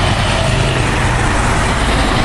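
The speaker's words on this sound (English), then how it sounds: "That's a school bus you hear passing behind me." A school bus passes close by in a broad, steady roar of engine and tyre noise that stays loud and even throughout, with no talk.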